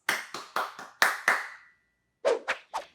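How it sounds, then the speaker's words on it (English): A group of kids clapping their hands in a math class, two short bursts of sharp claps: six claps in quick succession, a pause, then three more, close and clear with no talking. "Let's all clap our hands."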